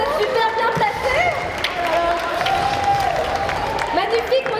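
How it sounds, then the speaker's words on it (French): Audience applause and cheering for a fighter named Rosa at a combat sports competition, a steady wash of clapping and crowd noise lasting throughout, with voices mixed in. "On peut l'applaudir"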